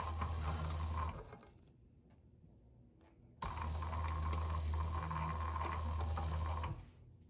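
A sewing machine stitches through a courier pouch in two steady mechanical runs, a one-second burst followed by a pause and then a longer, louder stretch of about three seconds, close by with no talk.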